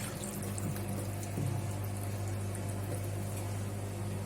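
A pot of cow trotters boiling in hot water with cardamom and black pepper, a steady close bubbling hiss with a low continuous hum underneath.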